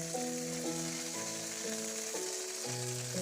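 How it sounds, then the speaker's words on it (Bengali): Koi fish fry in oil with a steady, close sizzle, over a background of repeating stepped tones. "হালকা করে মাছগুলো ভেজে নিয়ে আমি তেল থেকে মাছগুলো আস্তে আস্তে প্লেটে তুলে নিচ্ছি।"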